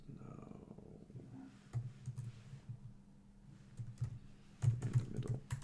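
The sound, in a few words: typing on a computer keyboard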